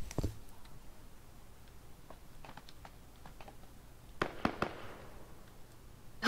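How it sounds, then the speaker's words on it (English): Distant gunshots crack in the Ring of Elysium video game, a few faint scattered pops followed by a tight cluster of three or four sharper reports, then one louder burst at the end. "Where them shots coming from?"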